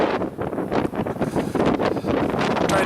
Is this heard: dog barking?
no